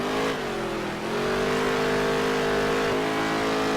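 A NASCAR stock car engine in the racing game NASCAR Heat 3 drones loudly and steadily, holding a high sustained pitch with a brief dip and recovery as it works the outside groove of an oval track.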